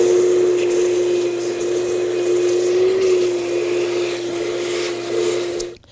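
Steady roar of a vacuum cleaner sucking up debris around the fuel pump on a 1984-2001 Jeep Cherokee, a constant close whine with slight shifts in pitch as the nozzle moves, then cutting off at the end.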